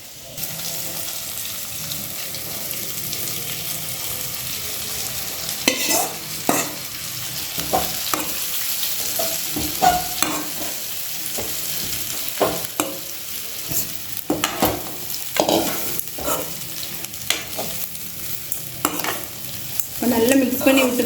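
Soaked red poha is stirred into fried masala in a pan for red poha upma, with repeated scraping and clanking of a spoon over a steady low sizzle, close and continuous.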